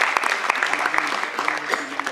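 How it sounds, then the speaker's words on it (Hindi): Applause from an audience after a Hindi stage play performance, with loud, irregular clapping over a continuous crowd wash and a voice speaking over it. "जोरदार तालियां।"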